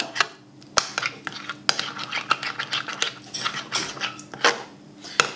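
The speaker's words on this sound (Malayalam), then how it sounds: "അപ്പോൾ ഇതുപോലെ ശരിക്കും മിക്സ് ചെയ്യുക, നല്ല ഒരു പേസ്റ്റ് രൂപത്തിലാക്കി എടുക്കുക." A spoon mixing ingredients into a paste in a bowl, with repeated scraping and clinking strokes in an irregular rhythm, close and moderately loud, no voices.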